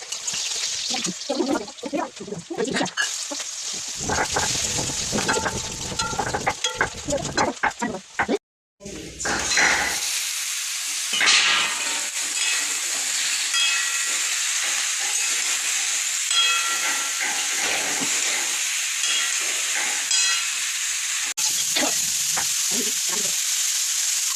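Food cooks in a pan at home, throwing off a loud continuous steam hiss and sizzle that runs throughout, broken by a brief cut near the middle, with occasional clatter and faint voices in the background.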